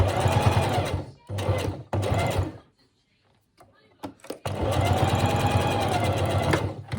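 A sewing machine stitches a seam on a fabric dolphin toy in loud, close bursts of rapid rhythmic clatter, pausing twice for quieter handling noises before a long final run.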